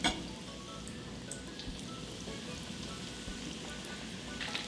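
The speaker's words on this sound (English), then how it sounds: "Deep fry the shrimp for about 2 minutes until the crust becomes a nice crispy golden brown" Coconut-crusted shrimp deep fry in hot oil in small batches, giving a soft, continuous crackling sizzle with scattered pops. It sounds close and steady for the whole stretch.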